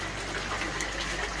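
Water gushing and splashing steadily as it pours through pond filter media and out the bottom, a continuous close broadband rush with no voices.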